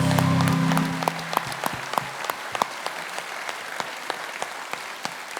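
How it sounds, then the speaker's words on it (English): An audience claps in a dense burst that quickly thins to scattered individual claps, with a brief tonal sound fading out at the start. "Big round of applause."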